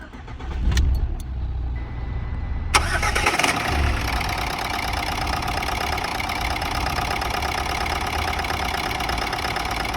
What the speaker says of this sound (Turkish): Sonra aracı çalıştırırsınız.